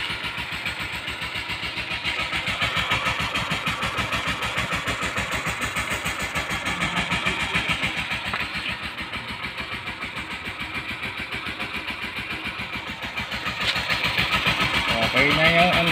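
Suzuki GD 110 motorcycle engine running steadily at a fast, even idle after starting, close and fairly loud throughout, with a short rise in level near the end.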